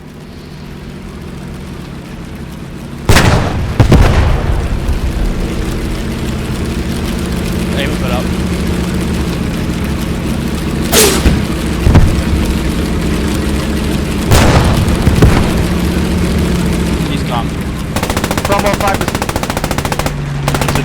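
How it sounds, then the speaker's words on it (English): Heavy, booming artillery explosions in the video game Post Scriptum, several loud separate blasts spaced a few seconds apart over continuous battlefield rumble and gunfire. "Germans firing 4 rounds of artillery."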